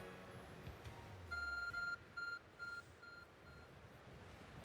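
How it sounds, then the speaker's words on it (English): A faint Arc Phone in the video game Pokémon Legends: Arceus gives a series of short, evenly spaced beeps over a quiet, low hum, then the beeping stops. "Your arc phone is beeping."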